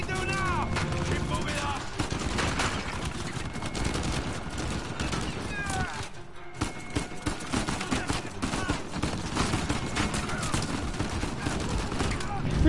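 Turret gunfire in a video game rattles in dense, rapid bursts for several seconds, with a brief lull midway before the volleys resume, while a person talks over the barrage.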